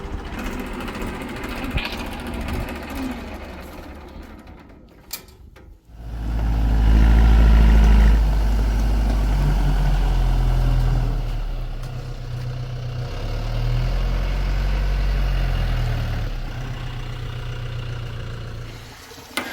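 A tractor engine idles and then revs into a loud, steady low rumble as the machine is moved aside, with the engine note shifting and dropping back near the end.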